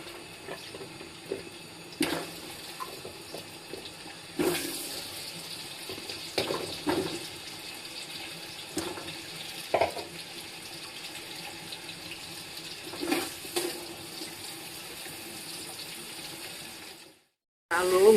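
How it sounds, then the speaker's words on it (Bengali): Potatoes fry in soybean oil in a pot on the stove, producing a steady low hiss dotted with occasional sharper clatters and bursts, and the sound briefly cuts out near the end. "এই তেলে আমি এখন ভেজে নেব আলু"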